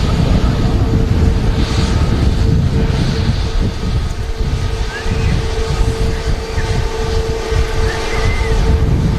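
Jet airliner taxiing past at Manchester Airport, a loud, close engine roar with a steady whine and low rumble that holds throughout, swelling and easing slightly as the aircraft rolls by.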